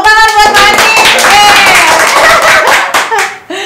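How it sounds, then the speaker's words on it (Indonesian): A small podcast group claps for Pak Anies in a close, loud burst of hand claps mixed with laughter and chatter, fading out near the end. "Tepuk tangan buat Pak Anies."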